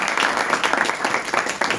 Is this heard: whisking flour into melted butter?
no